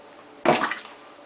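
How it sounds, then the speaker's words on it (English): Hands swishing potato wedges through a bowl of water to rinse off starch, one short close splash and slosh that fades quickly into quiet. "Rinse like with your hands."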